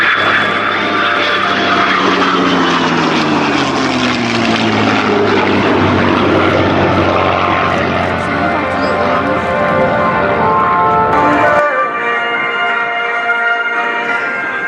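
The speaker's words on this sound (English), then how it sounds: "Formation today is a World War II era P-51 Mustang, free and easy, piloted by Mr. Dan Friedkin, and the United States Air Force's F-22 Raptor" A World War II P-51 Mustang and an F-22 Raptor pass overhead in a formation flight at an airshow at RAF Fairford. A loud, sustained engine roar sweeps past with a slowly falling pitch, then cuts off sharply near the end.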